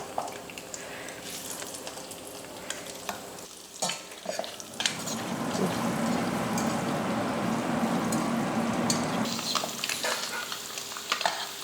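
Halved boiled eggs coated in masala fry in hot oil with a loud, continuous close sizzle, broken by stirring and scraping of a spatula in the pan.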